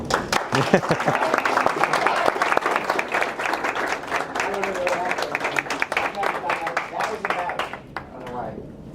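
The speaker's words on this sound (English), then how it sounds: "I was clapping." An audience at a live talk for behavior analysts breaks into sustained applause, a steady crackle of many hands that tapers off near the end, with a few voices audible underneath.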